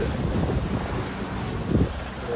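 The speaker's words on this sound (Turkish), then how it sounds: "Rüzgar direkt kafadan esiyor" Strong wind gusts buffet the microphone in a steady roar, with a faint wash of water underneath, on a sailing boat heading into a headwind at sea.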